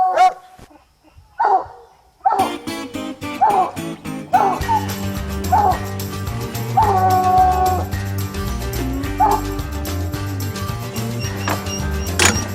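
Hunting dogs bark and yip at a raccoon treed in the woods at night, scattered calls at first, then a dense, continuous chorus of overlapping barks close by.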